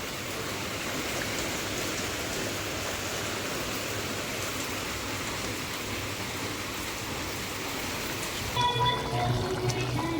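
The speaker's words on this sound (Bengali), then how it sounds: "বৃষ্টির মজা নেব, কারণ আমার বৃষ্টি দেখতে খুবই ভালো লাগে।" Steady, dense rainfall pours down without a break, a close, even hiss throughout with no voices.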